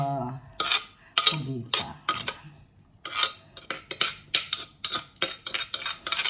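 Grilled octopus is transferred onto a serving dish with utensils, giving a rapid series of close metallic scrapes and clinks against the plate, with a brief spoken word near the start.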